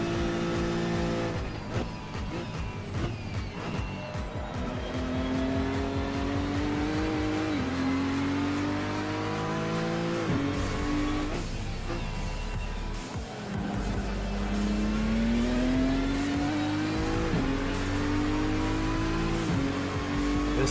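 Race car engine in the Assetto Corsa racing game, a loud sustained whine rising and falling with gear changes and braking, with brief tire squeals between revs while the car laps the circuit.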